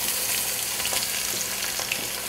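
Chopped onions fry in warm oil for an Indian chicken biryani, giving a steady, close, loud sizzle with faint crackles throughout and no voices.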